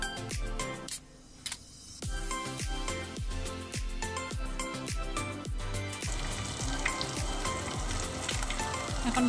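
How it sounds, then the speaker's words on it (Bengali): Hilsa fish pieces frying in oil in a pan over medium-low heat, a steady loud sizzle with a repeated rhythmic tapping or ticking running throughout, no voices. "চুলাটাকে মিডিয়াম টু লো আঁচে রেখে আমি মাছগুলো ভেজে নেব।"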